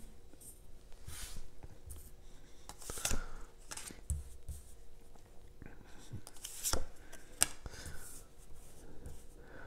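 Tarot cards are shuffled and drawn by hand at close range, soft papery riffles, slides and light taps in irregular bursts over quiet room tone.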